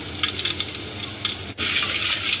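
Bay leaf, cinnamon and cardamom frying in soybean oil in a pot, a dense steady close sizzle with a brief dip midway, no talk.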